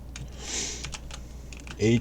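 Fingers tap on a computer keyboard while entering code in Dev-C++ on a Windows 2000 machine: a handful of quick, close clicks in an uneven rhythm, with a brief voice cutting in at the very end.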